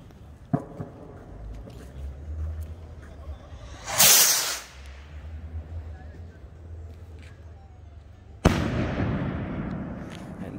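New Year fireworks rockets burst with sharp bangs and crackling, one loud blast near the middle and another sustained crackling volley near the end, over a low rumbling background.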